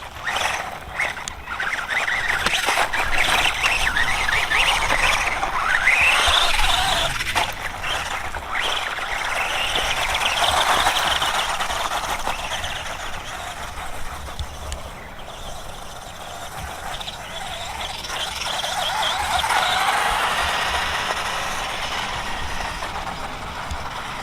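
A CROBOLL 1:18 scale 4x4 RC monster truck drives off-road, its small electric motor giving a steady high whine that rises and falls over about 24 seconds, with crunching of terrain and no talking.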